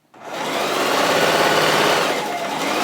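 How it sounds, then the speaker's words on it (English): Steady whirring of a sewing machine stitching the collar of a puffer dress made from a quilt, starting abruptly and running loud and continuous at an even pace. "And I'm going to just sew it up at the collar."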